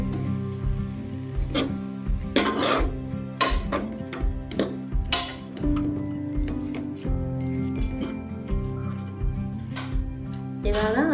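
A spoon stirs urad dal palya with onion in a metal pan, clinking and scraping in an irregular rhythm of sharp knocks over a steady background hum.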